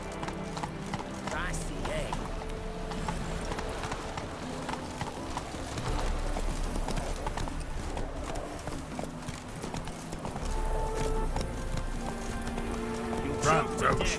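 Hoofbeats of Roach, a horse galloping in The Witcher 3: Wild Hunt, drum steadily and loudly beneath a busy game soundscape with music, while voices talk over the run.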